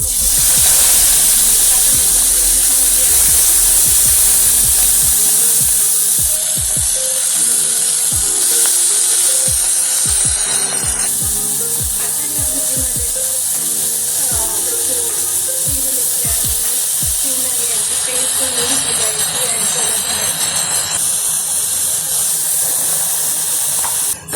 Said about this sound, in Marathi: आपण आता याच्यामध्ये जिरी ॲड करत आहोत हिंग ॲड करणार आहोत